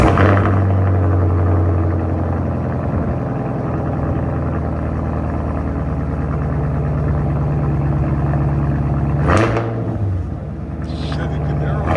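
A 2023 Chevy Camaro SS with a straight-piped 6.2L V8 idles with a deep, loud, steady exhaust rumble, swelling in one short rev before settling back, with people talking over it.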